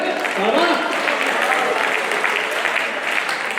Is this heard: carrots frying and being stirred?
no